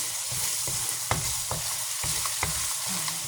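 Garlic frying in butter in a pan with a steady, close sizzle, broken by several short scraping stirs of a utensil at fairly regular intervals.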